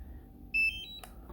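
Startup beeps from a DJI Mini 3 drone controller: a short clear high tone followed by a second rising beep, then a faint click, quiet and close in a calm room.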